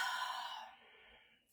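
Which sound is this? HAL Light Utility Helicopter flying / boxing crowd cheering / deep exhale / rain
deep exhale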